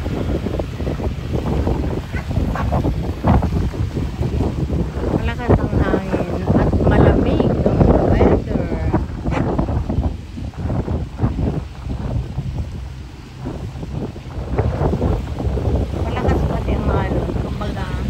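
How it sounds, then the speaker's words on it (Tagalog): Strong seaside wind roars and buffets the microphone continuously near a harbour with boats, surging louder and easing in gusts while a person talks intermittently over it. "Malakas ang hangin."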